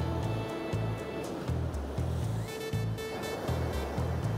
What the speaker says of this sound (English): I'm just watching the waves which are over there too, because they're piling along the pier